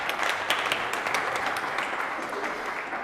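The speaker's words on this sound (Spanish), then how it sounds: "un aplauso para Pilar Cruz." Audience applause for Pilar Cruz at a talk on Gino Rubert's art, a steady, moderately close patter of many hands clapping for about three seconds without any voices.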